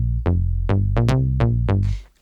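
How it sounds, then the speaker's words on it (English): A Yamaha TX81Z 1980s FM synthesizer plays its Lately bass patch, six punchy, plucky bass notes in a quick bouncing phrase, bright and percussive at each attack, ending in a short decay. "use my trusty Yamaha TX81Z from the 80s and call up my favourite bass patch called Lately"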